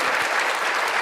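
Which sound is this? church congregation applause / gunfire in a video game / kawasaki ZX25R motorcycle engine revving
church congregation applause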